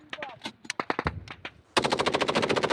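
Machine gun and automatic rifle fire in combat: scattered sharp bursts of shots give way to a fast, loud, sustained rattle of rapid rounds near the end.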